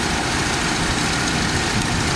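A steady, loud engine idle rumbles without change for a couple of seconds, close up, with a broad noisy hum and no voices.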